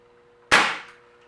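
A Crosman Remington R1100 air rifle fires a single BB, one sharp close crack that decays quickly into a short ringing tail against near silence.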